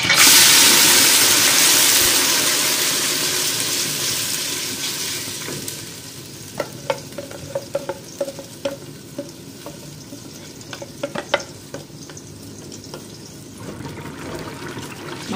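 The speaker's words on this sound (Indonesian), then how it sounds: "Kita tumiskan daun kari." Curry leaves and a blended spice paste sautéing in a hot pan for a Malaysian beef dalca, a loud steady sizzle at first that eases into quieter frying with scattered pops and stirring clicks, no voices.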